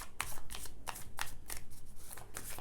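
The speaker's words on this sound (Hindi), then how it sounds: "मैं कार्ड शफल कर रही हूँ जब तक।" A deck of tarot cards being shuffled up close, quick riffling bursts repeating about every third of a second, crisp and fairly quiet with no voice.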